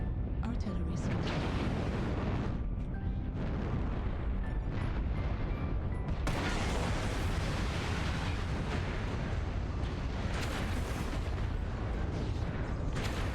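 Artillery strikes in MechWarrior Online, a dense, loud barrage of booming explosions and roaring blasts that runs without a break, with some game chatter buried underneath.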